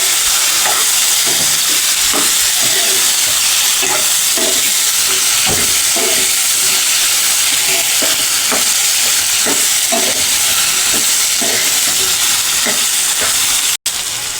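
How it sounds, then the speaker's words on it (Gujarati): Sliced okra frying in oil in a pan with a loud, steady sizzle throughout, punctuated by repeated scraping strokes of a spoon stirring it. "હવે આપણે તેમાં ભીંડો નાખી દઈશું। આપણે તેને હલાવીને મિક્સ કરી લઈશું।"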